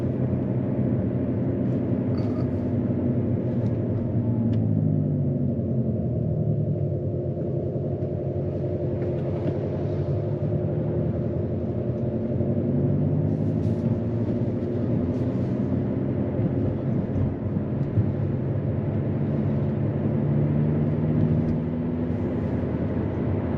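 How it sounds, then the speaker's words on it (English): Inside an Abarth 500e Turismo electric car on the move, a steady low road rumble and wind noise hold at an even level throughout, with no talking. "you get more noise, wind noise and other sorts of noises you get whilst you're driving"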